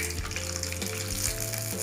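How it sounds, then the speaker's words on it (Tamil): Mustard seeds and urad dal crackle and sizzle in hot sesame oil while tempering for idli upma, a dense, steady frying hiss close up with no voices. "எண்ணெய் காஞ்ச பிறகு கடுகுளுந்தம்பருப்பு"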